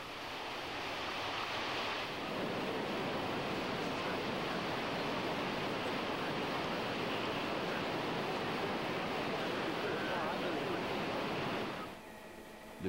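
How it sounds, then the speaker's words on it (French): Floodwater pours over a newly formed waterfall beside Route 170 during the 2003 Saguenay flood, a steady, loud broadband roar of rushing torrent lasting throughout before dropping slightly at the end. "Une chute d'eau s'est créée, due au rehaussement du niveau d'eau à la hauteur de la route 170."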